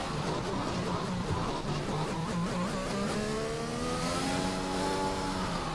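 Race car engine in the F1 2021 racing game at the Hungary round, a steady loud drone that climbs in pitch toward the end of the lap, running continuously with no talk over it.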